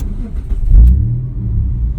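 A 1995 Dodge Stealth's engine cranks and catches after years of sitting, a close, loud rumble that surges as it fires and then settles into a steady idle.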